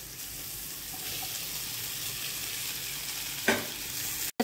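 Mashed boiled potatoes are stirred into a sizzling masala in a pan for masala dosa filling, a steady frying hiss with soft scraping and one brief clatter near the end, with no talk.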